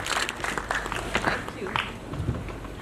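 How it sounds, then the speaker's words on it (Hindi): Media audience at a trailer launch event in New Delhi giving light, scattered applause, a sparse patter of claps under a speaking voice. "मीडिया मेंबर्स, थोड़ी सी तालियां."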